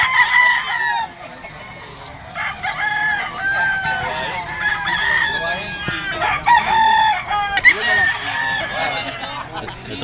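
A bulik gamecock rooster crows repeatedly at a pet market, its loud calls mixed with clucking from other fowl and a voice talking faintly in the background.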